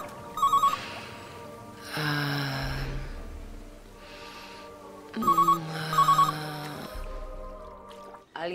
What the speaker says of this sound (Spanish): ¿Alguien le está sonando un celular?